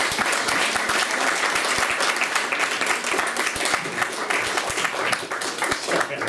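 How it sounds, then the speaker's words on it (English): An audience at a literary fiction reading event applauds warmly, a full, continuous round of clapping from a roomful of listeners that holds steady for several seconds with little talk. "Please give a warm round of applause for Alex Shakar."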